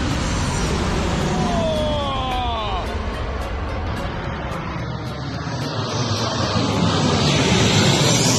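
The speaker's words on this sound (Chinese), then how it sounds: "现在正好有一架飞机在缓缓地朝我这个方向飞过来" An airplane on its landing approach passes overhead, a broad rising engine roar that builds and swells toward the end, with a voice briefly speaking early on.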